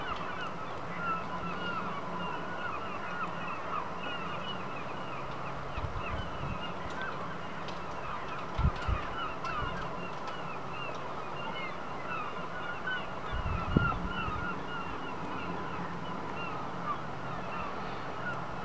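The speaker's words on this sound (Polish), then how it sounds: "No ale ptaki dalej się drą" A large flock of geese honks continuously during a total solar eclipse, a dense, loud, distant chorus of overlapping calls with occasional low thumps and no speech.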